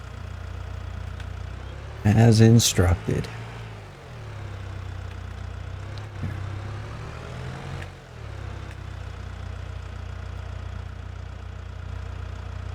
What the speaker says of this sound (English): Start the engine first as instructed.